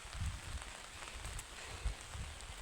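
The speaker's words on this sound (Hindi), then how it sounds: "अभी लग चुकी है बारिश" Steady rain falling outdoors, a soft continuous patter with low thuds of drops striking a surface, no voices present.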